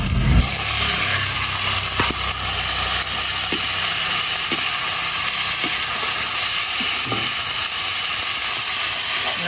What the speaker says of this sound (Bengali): গোটা শুকনো মরিচ দেবো একটু এবার আমি বাগার দিয়ে দেবো